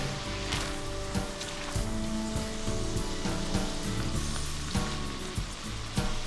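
Lumpia filling sizzles loudly in a frying pan as it is stirred, with steady hiss and crackle and the occasional scrape of a utensil against the pan throughout.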